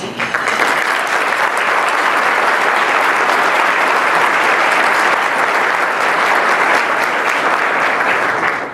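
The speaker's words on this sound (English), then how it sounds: "let's give this team a round of applause" An audience at a recognition luncheon applauds a campaign team, with steady, full applause from many hands that fills the room for about nine seconds without a break.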